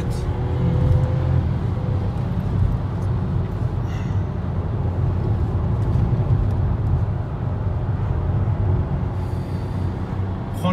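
A 95 hp 1.0 TSI Volkswagen Polo 6 driving and pulling out to overtake, a steady loud cabin drone of engine and road noise with little change throughout, no clear voices.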